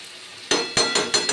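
Whipped yogurt goes into a pan of cooking aloo dum, followed by four quick metallic clinks and scrapes of a spoon stirring against the pan over a faint background.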